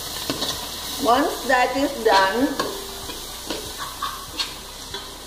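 Garlic paste sizzles and crackles in a hot pan while being stirred, a steady frying hiss close by, with a person speaking over it partway through.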